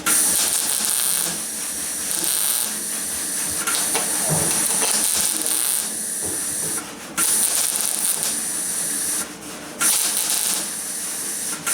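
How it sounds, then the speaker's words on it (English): Welding a split in the front fender of a 1977 Camaro Z28 produces a steady, loud crackling hiss that runs almost unbroken, with brief pauses where the arc stops. "Just gonna have to weld that up."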